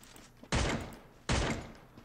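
Two sharp, heavy gunshot impacts strike an ice wall in the Free Fire video game, each a loud booming thud with a decaying tail, spaced under a second apart.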